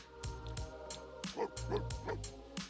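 A small pet dog in The Sims 4 gives several short yipping barks in a row, moderately close and fairly quiet, over a steady soft game music bed with no talking.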